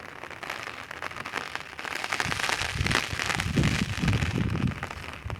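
Heavy monsoon rain pours onto a flat concrete rooftop terrace, a dense steady hiss with crackling patter that swells slightly louder midway and stays constant throughout, with no voices.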